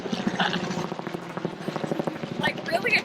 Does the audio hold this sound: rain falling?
no